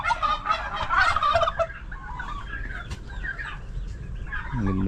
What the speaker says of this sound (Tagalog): sige sunod ni mo ang pabo